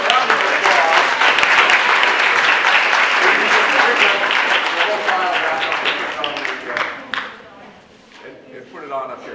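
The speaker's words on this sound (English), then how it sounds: "Let's give a round of applause." An audience at a genetics and precision medicine lecture gives loud, dense applause that fades toward the end, with voices talking as the clapping dies down.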